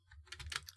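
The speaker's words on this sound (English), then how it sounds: "I'm typing on the wrong keyboard." Quick, close clicks of typing on a computer keyboard, a short burst of several keystrokes, quiet and alone.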